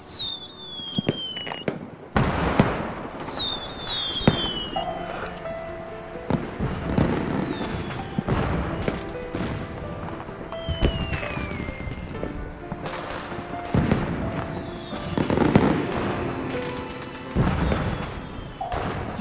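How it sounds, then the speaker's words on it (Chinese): A private fireworks display bursts overhead, with repeated booms and crackling blasts at irregular intervals, some preceded by rising whistles, loud and fairly close throughout. "就是来带我看烟花。"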